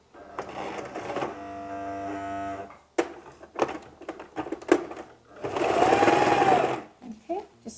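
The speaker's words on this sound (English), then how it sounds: "You are in charge of the sewing machine." A sewing machine stitches bias tape in short runs, whirring in steady bursts separated by pauses and clicks, close by. A voice speaks between the runs.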